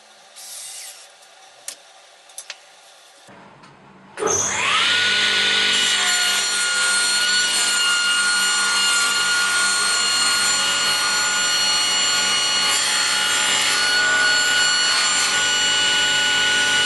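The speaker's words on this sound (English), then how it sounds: "Now I've got the sled cut in half" A power saw rips loudly and steadily through a wooden strip-cutting sled for kumiko work, cutting it in half; a few faint knocks come first, then the blade roars continuously to the end with no talk.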